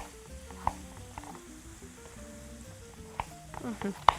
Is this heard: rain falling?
no